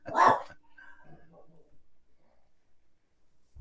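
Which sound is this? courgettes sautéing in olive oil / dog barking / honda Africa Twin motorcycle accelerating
dog barking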